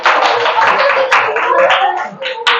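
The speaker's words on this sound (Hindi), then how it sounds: "सारे बच्चे तालियां बजाओ इनके लिए" A class of children clapping together, a dense, steady burst of applause with voices mixed in.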